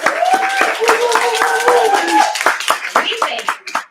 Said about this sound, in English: we're gonna clap one more time for everyone here.